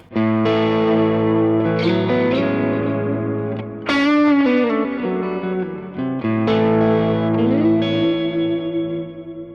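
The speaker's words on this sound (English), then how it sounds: "you'll hear that delay coming through both amplifiers" An electric guitar plays sustained chords and notes through a delay effect feeding two amplifiers, echoes trailing after each phrase in a wide, spacious sound.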